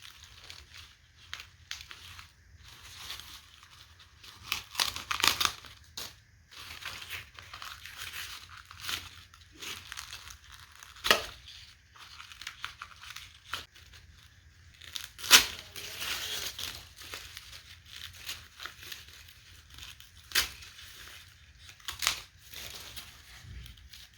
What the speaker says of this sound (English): I'm just going to go in and completely cut back the stem.